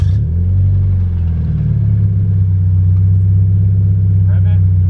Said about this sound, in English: Mike's gonna give us a startup, the last startup with catted headers, catted front pipe, and the Invidia N1 exhaust.